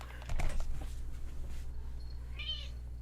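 A house cat meows in a short, faint, rising cry near the end, after some soft clattering and keyboard-like tapping in a quiet indoor room.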